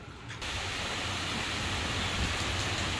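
Heavy rainy-season rain in Capiz, Philippines pours down steadily in a dense, hissing wash that starts abruptly and stays loud throughout, with no voices.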